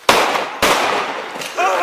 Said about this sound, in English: we got shots fired